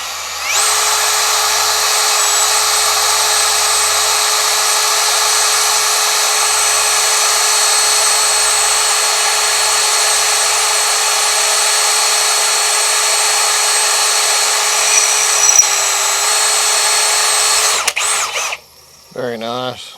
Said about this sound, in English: 5mm by 50 by 50 angle iron, mild steel, Milwaukee cobalt drill bit, freshly sharpened